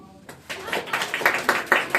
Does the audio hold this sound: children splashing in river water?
no